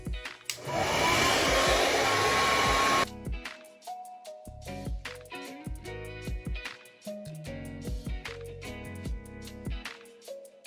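A blow dryer roars loudly for a few seconds, then cuts off, leaving rhythmic music playing alone.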